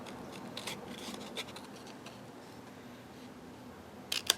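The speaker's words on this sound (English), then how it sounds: "I'm just going to use my scissors. And I'm cutting on the trying to cut on the inside of the line" Scissors snip through a paper template for a winged card box, a series of quiet crisp cuts with a sharper burst of snips near the end.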